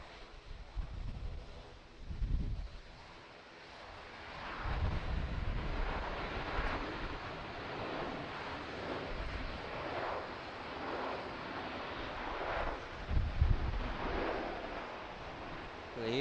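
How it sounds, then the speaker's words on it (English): A Fiji Airways Airbus A330-200 lands at Auckland International Airport, its engines producing a steady, broad roar with wind buffeting the microphone and a few heavier gusts, heard from a moderate distance without talk. "The Airbus A330"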